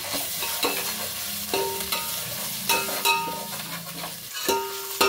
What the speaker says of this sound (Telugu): ఇప్పుడు అల్లం వెల్లుల్లి పేస్ట్ బాగా పచ్చివాసన పోయేంత వరకు బాగా ఫ్రై చేసేసుకుందాము